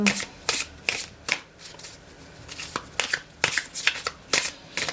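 Tarot cards being shuffled in a series of crisp riffling bursts with short pauses between them, close and fairly loud, with no talking.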